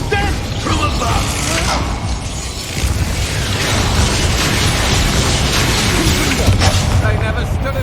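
Hogwarts Legacy spell combat, including Bombarda, Levioso, Expelliarmus, Depulso and Incendio, with dense, continuous magical blasts, booms and impacts layered closely together at high volume.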